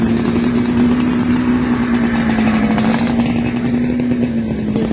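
A two-stroke motorcycle engine in Italy runs steadily and loudly close by, holding a continuous buzzing drone with slight rises in pitch throughout, no talking over it.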